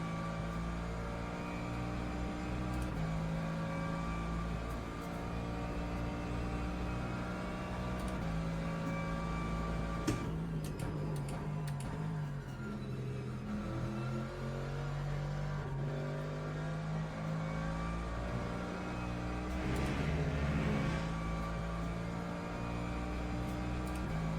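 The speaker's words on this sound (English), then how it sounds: "this Porsche is right on my fucking ass, man" A Porsche LMGT3 race car engine at Monza in a racing game: a steady whining drone with shifting revs as a car closes in behind, held loud throughout.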